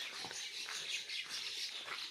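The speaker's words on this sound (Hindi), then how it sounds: "ओहो चिड़िया" Small birds chirp in a rural Indian village, quick high tweets repeating through the short stretch over a steady outdoor background hiss, with no one talking.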